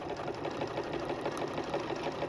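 A Bernina sewing machine runs steadily as it stitches binding onto a quilt, a continuous, even, rapid mechanical chatter close to the listener, with no pause across the stretch.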